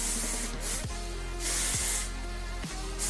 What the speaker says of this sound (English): To top this look off, I will definitely spray some hairspray